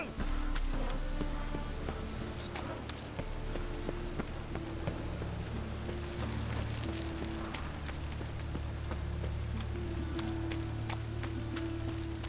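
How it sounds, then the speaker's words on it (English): Steady rain falls across an outdoor scene in The Witcher 3: Wild Hunt, a continuous soft hiss with light patter and faint tonal game ambience underneath, holding at an even level throughout. "Looks like rain."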